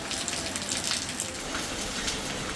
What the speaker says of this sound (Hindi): अब देखिए बारिश इतनी भयंकर हो रही है कि जो छत के ऊपर पड़ जा रहा है उससे भी भयंकर पानी आने लग गया है।